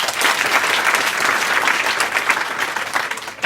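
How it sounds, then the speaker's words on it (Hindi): Schoolgirls at an inter college in Azamgarh clap loudly and steadily, a dense, close burst of applause from a crowd that holds at full strength for a few seconds. "इसके लिए जोरदार ताली मारो।"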